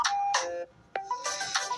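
A phone ringtone plays a short electronic melody of bright tonal notes, close and clear, with a brief pause between phrases during a gaming session.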